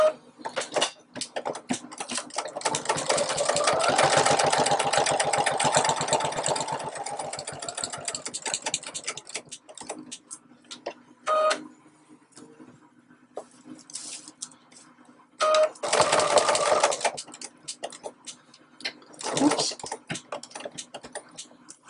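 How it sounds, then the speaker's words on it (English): A sewing machine stitches Velcro onto a keyboard bag in several runs, a long steady burst and then shorter stop-start passes with quiet gaps between, close by and moderately loud. "I have my Velcro, and I'm actually going to sew it in place"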